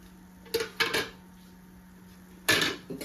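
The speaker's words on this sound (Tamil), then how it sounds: "சேர்த்து நல்லா கலக்கி விடுறோம்" A spoon clanks and scrapes against a pan while spicy Coimbatore-style masala makhana is stirred, in a few short, close bursts over a low steady hum.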